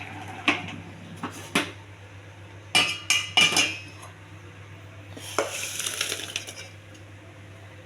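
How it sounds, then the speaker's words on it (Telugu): Mashed dal is stirred into cooked ridge gourd in a metal pot: a handful of sharp scrapes and clanks from a utensil against the pot, spaced irregularly over a low steady hum, then a longer stretch of rough stirring. "ఈ పప్పులు వేసి బాగా కలపాలండి కొద్దిగా."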